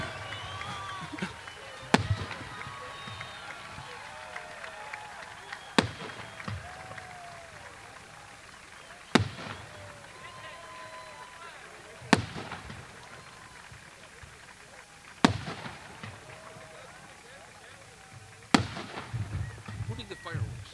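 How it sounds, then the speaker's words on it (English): Fireworks at a high school graduation ceremony: several sharp, booming bangs spaced a few seconds apart, moderately distant, over a steady bed of crowd noise and chatter. "Who did the fireworks?"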